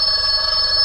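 A telephone rings at an employment agency office, a steady high electronic ring running loud and unbroken through the short moment with no talk over it.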